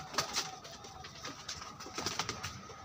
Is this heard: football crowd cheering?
no